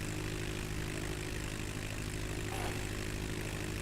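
Steady droning propeller engine of a small airplane in a flight simulator game, flying between Gary/Chicago International and Michigan City Municipal airports, a continuous hum with a brief swell near the end and no talk.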